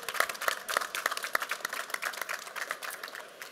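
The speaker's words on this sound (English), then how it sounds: "So please give him a round of applause as well" An audience at a Krones forum at the drinktec trade fair applauds, a brief burst of scattered clapping that fades toward the end with no talk over it.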